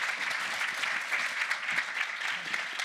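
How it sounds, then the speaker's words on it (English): An audience at a business start-up day event gives a round of applause for a speaker, a steady, dense crackle of many hands clapping that holds evenly for about three seconds with no voices over it. "I think he deserves a very big round of applause again. Could you put your hands together for Dr. Jeremy Silver?"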